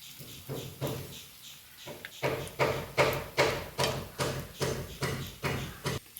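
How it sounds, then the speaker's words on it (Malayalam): Repeated hammer blows from nearby house construction ring out at a steady pace, about a dozen sharp knocks, moderately close and growing louder partway through. "അടുത്ത് വീട്ട് പണി നടക്കുന്നുണ്ട് അതിൻ്റെ ശബ്ദമാട്ടോ കേൾക്കുന്നത്"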